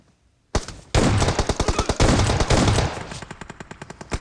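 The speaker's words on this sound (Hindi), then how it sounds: "मैंने मुंह पे मारी पहली शॉटगन, वो नॉक नहीं हुआ" Gunfire in the PUBG Mobile battle royale game during a shotgun-only match, a loud burst of rapid, closely spaced shots that starts abruptly and continues in a fast rattling rhythm before thinning out.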